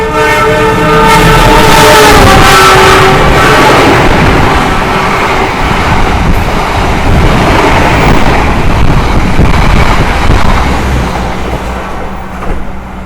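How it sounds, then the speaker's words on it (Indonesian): Argo Semeru express train, with mixed executive class and compartment suite cars, roaring past at high speed with a long horn blast at the start and a loud, steady rush of wheels and carriages that tapers slightly at the end. "Ini dia kereta api Argo Semeru dengan kelas campuran eksekutif dan kompartemen suites."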